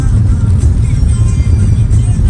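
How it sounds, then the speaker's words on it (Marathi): A car driving as rain begins, giving a loud, steady low rumble of engine and road noise from inside the vehicle, continuous throughout. "आता निघालो कार घेऊन, पाऊस चालू झाला."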